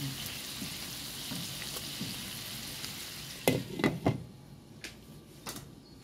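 Honey garlic chicken with onion sizzles softly while browning in a pan, then a few louder clatters and stirring knocks come near the end, close and fairly quiet with no talking.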